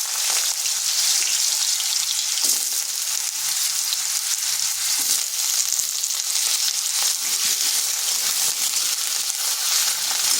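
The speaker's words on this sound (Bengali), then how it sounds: "আলুটাকে হালকা ভেজে নেব।" Potato pieces fry in oil in a wok, giving a constant fine crackling sizzle close by, with a few faint stirs and no talk.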